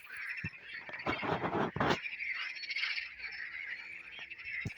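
Frogs croak in a chorus of rapid raspy calls as rain falls, loudest in a burst near the start, with scattered clicks and a soft steady background.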